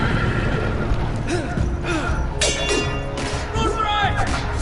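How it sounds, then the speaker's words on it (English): Horses in a Game of Thrones video game whinny repeatedly amid galloping hooves and thuds, loud and close, with a voice talking over the commotion. "Get ran over by the horses."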